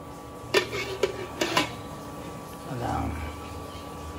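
Metal clanks and clinks as a lid is set onto a cooking pot of Filipino balbacua made with beef skin, a few sharp knocks near the start, followed by a softer low rumble under faint talk.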